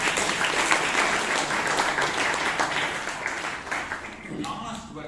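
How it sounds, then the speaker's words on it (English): Audience at a Bangalore Toastmasters club meeting applauding for Teresa, a steady dense wash of many hands clapping that carries on throughout and thins slightly near the end. "please give her a big round of applause"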